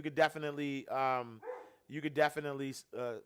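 A dog gives a series of loud, close, pitched barks and yelps in two bursts separated by a short pause.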